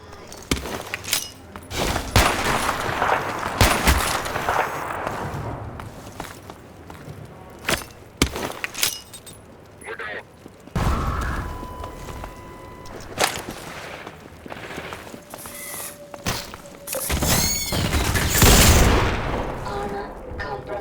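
Sniper gunfire in Half-Life 2 cracks out repeatedly near a warehouse roof, sharp shots and bursts scattered across the scene amid booms and game action, with brief in-game voices.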